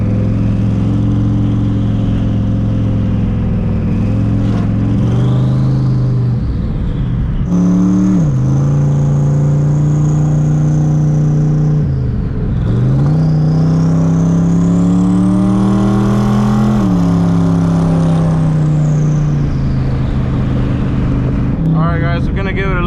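Twin turbo Cobra car under full throttle on a test drive, its loud engine note rising and falling through several gear pulls, close and continuous for over twenty seconds with turbo whine on top.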